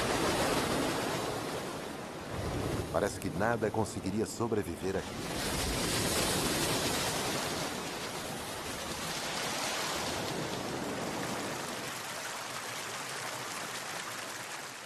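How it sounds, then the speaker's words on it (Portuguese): Large waves breaking on a beach at low tide: a loud, continuous roar of surf that swells and recedes throughout, with a voice speaking over it for a few seconds early on. "Na maré baixa, ondas enormes quebram na praia."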